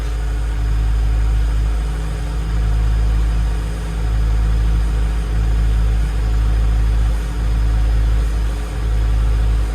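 Digger diesel engine idling steadily at close range as the auto idle picks up, a loud, constant low drone with a faint rhythmic pulsing and no voices.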